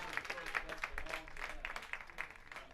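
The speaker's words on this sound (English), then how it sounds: "And Chalmers will get an ovation from the crowd." Ballpark crowd giving a baseball pitcher a sustained ovation as he leaves the game after 108 pitches at a Memorial Day tournament, heard as distant, steady clapping and cheering at low level, a dense wash of applause throughout.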